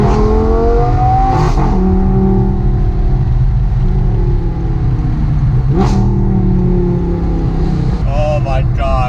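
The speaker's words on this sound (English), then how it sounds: "A V10 Audi R8." A red Audi R8 with a V10 engine and full Capristo exhaust revs loudly and continuously, its roar swelling and falling through repeated blips, with a sharp bark near the end.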